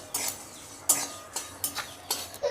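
Dry spices for a green mango pickle are dry-roasted in a pan, with a utensil scraping and tapping against the metal in about eight quick, irregular strokes, close and crisp with a faint sizzle between them.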